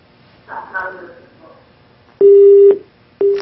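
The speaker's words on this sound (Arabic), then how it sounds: "فصل الخط، زعل." Telephone busy tone after a caller's line drops during a live call-in show, two loud steady beeps following muffled speech on the line.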